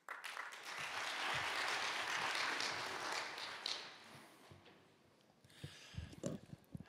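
A conference audience at the TCTAP 2023 opening applauds to welcome keynote speaker Dr. Nico Pijls, a loud dense burst of clapping that holds for several seconds, then thins out into scattered, fading claps.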